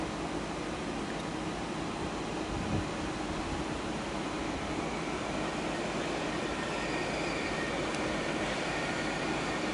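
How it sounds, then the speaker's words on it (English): Regional train of the Main-Neckar-Ride Express at Frankfurt Hbf, a steady loud rumble and hum of wheels and motors filling the station, with no one speaking. "There's another regional train on the so-called Main-Neckar-Ride Express."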